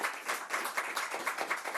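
Audience applause, a dense, steady burst of many hands clapping together, moderately loud and continuous throughout with no talk over it.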